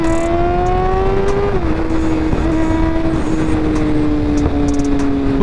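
An old BMW car passes close by in traffic, its engine note a steady drone with a slight pitch dip partway through, loud and continuous over road and wind noise.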